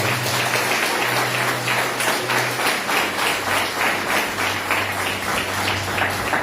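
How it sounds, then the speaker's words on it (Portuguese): Steady, dense applause from a large church congregation fills the whole stretch, a continuous wash of many hands clapping with a faint low hum underneath. "Você pode aplaudir Jesus nessa noite."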